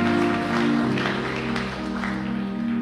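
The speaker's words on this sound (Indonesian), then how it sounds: "Berikan tepuk tangan yang meriah buat Tuhan" A church congregation claps and cheers in worship, a dense sustained wash of applause over steady musical tones, filling the room throughout.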